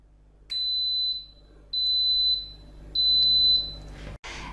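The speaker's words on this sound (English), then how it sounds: "In a few seconds, Instant Pot will beep, and that will tell you it knows what to do" An Instant Pot IP-DUO60 pressure cooker sounds three clear, evenly spaced electronic beeps, each about half a second long, close and alone in a quiet kitchen.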